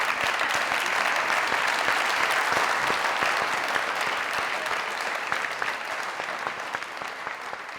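A comedy talk show studio audience claps hard and steadily, a thick continuous wash of many hands that eases slightly toward the end, with no speech.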